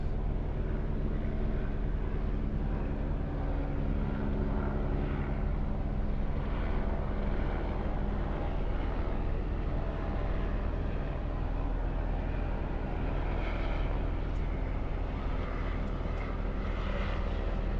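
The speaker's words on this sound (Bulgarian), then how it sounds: "Някакъв друг хеликоптер ще е." Helicopter engine and rotor drone from a small helicopter flying overhead, a steady broadband roar that holds at constant loudness throughout with no talk.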